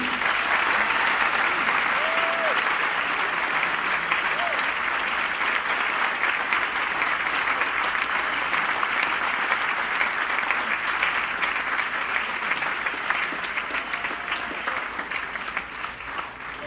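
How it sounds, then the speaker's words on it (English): A large audience at a college ring ceremony applauds in a dense, sustained roar that holds steady and then fades slightly toward the end. "I think they deserve a round of applause"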